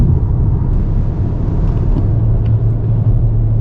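Steady low road rumble from inside a car cruising westward on a highway during a road trip through canyon country, a continuous close drone with no talking.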